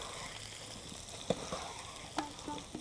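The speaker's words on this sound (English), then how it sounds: "You put them in your hot oil and then you turn them over so they're coated in the oil." Potatoes fry in hot oil on a roasting tray, giving a steady close sizzle broken by a few sharp clinks and scrapes as they are turned.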